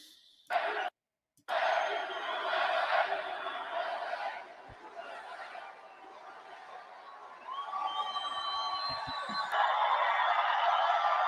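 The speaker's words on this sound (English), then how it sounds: "Wow, listen to the sound of that crowd." A large crowd at a Michigan political rally cheers and shouts, a dense roar that drops out briefly, swells back, eases through the middle, then builds again with some whistling near the end.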